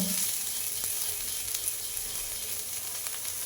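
Gime greens fry over medium heat with a steady soft sizzle and hiss, close and even, with a couple of faint ticks from the pan.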